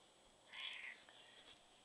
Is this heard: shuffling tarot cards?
no